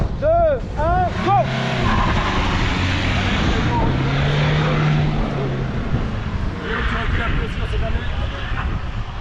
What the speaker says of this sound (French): Il va au frein à main, il a envie de faire des jolies glisses